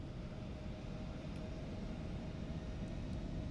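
Embraer E175 jet engines in X-Plane 12 as the throttle is pushed forward: a faint, steady, broad rumbling roar with a thin whine running underneath, no voices.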